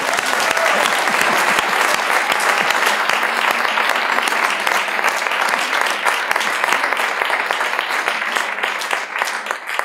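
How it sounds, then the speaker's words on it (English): Loud, dense audience applause fills a lecture hall at a reunion farewell event, steady claps from a large crowd sustained for about ten seconds before starting to thin at the end. "A round of applause for bow ties."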